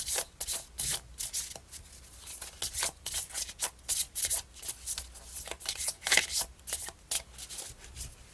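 Tarot cards being shuffled before a draw, a steady run of crisp riffling bursts close by, repeated rhythmically throughout.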